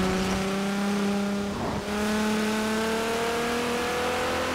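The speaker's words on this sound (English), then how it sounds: "Wow, this car sounds good." A car engine in Forza Horizon 4 revs up in rising harmonic tones, briefly drops around a gear shift, then climbs again, loud and close.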